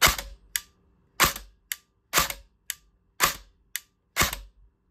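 Colt M4 CQB R airsoft gearbox cycling with the spring being decharged: a series of sharp mechanical snaps in pairs, five main cracks each followed by a lighter click, close and loud with no talking.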